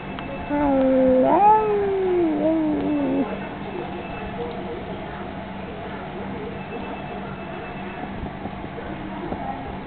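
A cat gives a loud, drawn-out meow with a rising and falling pitch, close to the microphone, then goes quiet against steady background noise. It happens during feeding time with a fish head.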